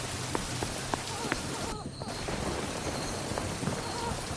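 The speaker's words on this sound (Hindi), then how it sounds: "कुछ समय बाद बारिश बहुत तेज हो गई। आसमान में जोर जोर से बिजली कड़कने लगी।" Heavy rain pours steadily as a story sound effect, a dense close hiss of drops with scattered patters and a faint low rumble of thunder.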